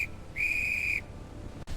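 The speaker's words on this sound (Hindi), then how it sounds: "और सीटी बजा दी।" A whistle is blown once outdoors as dark storm clouds roll in over a farm field before harvest, giving a single clear, shrill blast of about half a second over steady background rumble.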